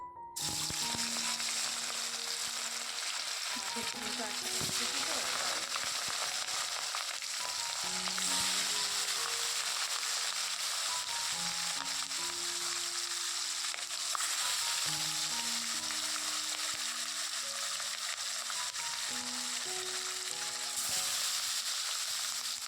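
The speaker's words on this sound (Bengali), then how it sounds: "এদিকে মাছ ভাজা হচ্ছে আর এদিকে আমি মশলাটাও করে নিলাম" Fish fries in hot oil in a wok on a gas stove, a steady close sizzle and crackle running throughout with occasional stirring and soft clinks, while quiet music plays in the background.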